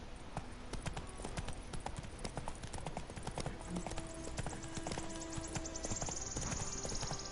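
Horse hooves clip-clopping in a steady galloping rhythm in The Witcher 3 video game, continuous and fairly loud with game music and ambience layered underneath.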